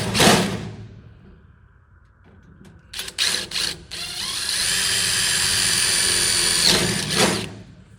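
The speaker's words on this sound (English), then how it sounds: "We'll go ahead and drill them out." A 1/8 inch drill bit bores holes during a Quincy 350 air compressor conversion. After a short rustle, a few brief drill bursts lead into a long, steady whine of drilling that stops sharply near the end.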